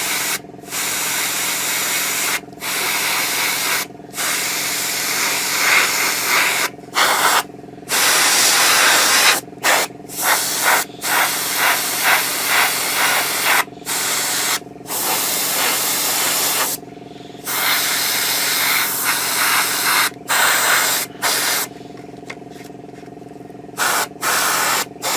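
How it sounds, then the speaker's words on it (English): An airbrush spraying paint onto a 1/35 scale Takom Chieftain Mk10 tank model, loud hissing bursts of varying length broken by short silent pauses between passes. "just laying the paint down in a couple of even coats"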